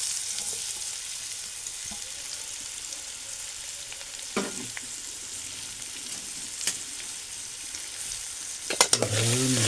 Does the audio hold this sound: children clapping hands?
no